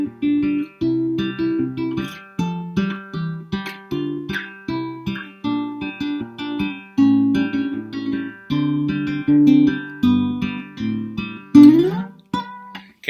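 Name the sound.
guitar fingerpicking a song section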